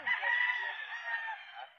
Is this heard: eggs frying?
no